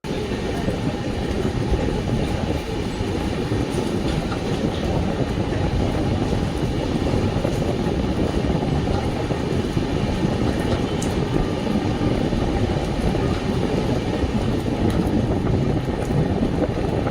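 Rani Chennamma Express train at Alnavar Junction, a steady, loud rumble of wheels and carriages heard from on board, continuous with a little wind noise and no talk.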